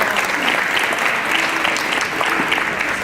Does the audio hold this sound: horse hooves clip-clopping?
no